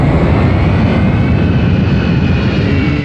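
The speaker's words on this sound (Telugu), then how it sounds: "విమానం వచ్చే టైం అయిపోయింది" An airplane's engines roar in a loud, steady, continuous drone throughout, close and dominating, as the aircraft arrives at an airport.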